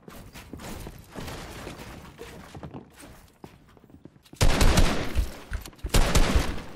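Avoc weapon gunfire in Fortnite crackles in scattered bursts that later turn into loud, rapid volleys close by, mixed with footstep-like clatter.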